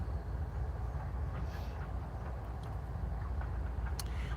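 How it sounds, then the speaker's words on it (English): A locomotive moving in a CSX rail yard in Chattanooga, heard at a distance as a low steady rumble with a few faint metallic clicks and squeaks drifting over it. "there goes a locomotive moving over in the CSX yard on this side"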